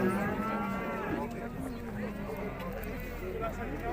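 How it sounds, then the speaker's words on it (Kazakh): Cattle at a livestock market in Urzhar, a cow with a calf, lowing in long drawn-out moos amid the market hubbub, with people talking over it. "Бұзау сиыры бар екен."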